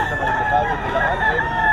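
A young rooster, a stag, crows loudly and close, one long strained call with a harsh, wavering tone that fills the whole stretch.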